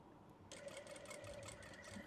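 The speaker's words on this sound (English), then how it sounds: "Do a bit more sewing." A sewing machine stitches scrunchie fabric, starting after a brief pause into a fast, even, quiet mechanical whir heard close up with no voices.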